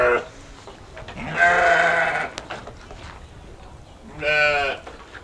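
Garut sheep in a pen let out two loud, drawn-out bleats nearby, with quieter animal noises and a voice talking briefly in between.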